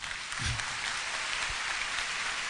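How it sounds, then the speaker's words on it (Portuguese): A church congregation applauds for Jesus, a steady brief burst of clapping at moderate distance. "Pode dar um aplauso para Jesus"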